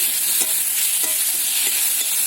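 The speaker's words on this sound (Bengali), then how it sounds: "দিয়ে ভালো করে পেঁয়াজ আদা রসুন সব কিছুকে খুব ভালো করে ভেজে নিতে হবে" Onion, ginger and garlic paste fries in a little oil, a steady bright sizzle broken by soft periodic stirring scrapes, close and continuous with no talk.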